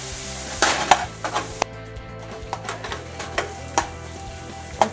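Onion frying with salt in a pan for dhaba-style chicken gravy, a steady sizzle broken by sharp spoon clinks and scrapes against the metal as it is stirred.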